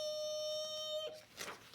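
Car brakes squeal as a car stops quickly, a sustained, high, even tone lasting about a second, followed by faint scattered noises.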